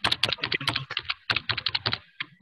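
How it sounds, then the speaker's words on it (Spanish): Rapid, loud clatter of keys being typed hard on a computer keyboard, picked up by a nearby microphone during an online lecture, in dense bursts with a brief pause near the end. "le están dando a full al teclado, me están rompiendo los oídos"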